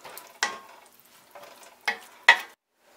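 Carrots cooking in milk for carrot halwa are stirred in a pan, giving three or four sharp, close scraping strokes separated by a quiet bubbling simmer.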